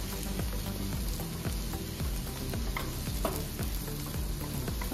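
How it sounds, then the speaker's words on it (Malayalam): Spice masala with coriander powder is stirred in a frying pan for quail egg puttu. A steady, close sizzle runs under repeated short scrapes and stirring strokes. "നന്നായിട്ട് ഇളക്കി കൊടുക്കണം."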